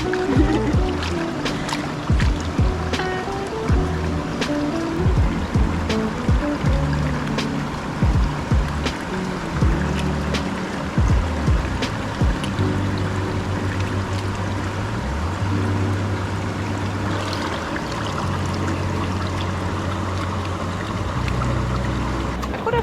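Calm river ambience with water lapping and trickling steadily, scattered knocks and splashes close by, and a low hum coming and going in the background.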